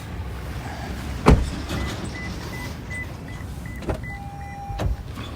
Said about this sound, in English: On here on the driver's door, you have power windows